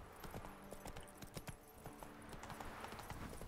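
Hooves of Roach, the horse in The Witcher 3: Wild Hunt, clip-clopping in a steady, fairly close gallop-like rhythm of sharp repeated thuds, with faint game ambience underneath.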